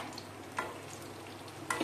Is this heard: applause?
no